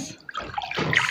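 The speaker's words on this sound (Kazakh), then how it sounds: "300 грамм сүтімізді құйып аламыз" Milk poured into a bowl while preparing dough for oven-baked sausage rolls, a brief soft liquid trickle and splash, faint and close, with no talk.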